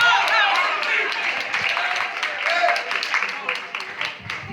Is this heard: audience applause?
yes